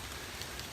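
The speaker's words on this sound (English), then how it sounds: "And here comes the rain." Rain falling outdoors at a rural fishing and foraging spot, a dense steady hiss filling the whole moment with faint scattered drop ticks, no voices.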